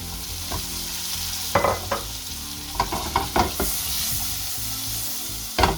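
Whole cherry tomatoes sizzle loudly in a hot pan for a full breakfast, a constant close hiss broken by several clattering stirs and scrapes, with no voices.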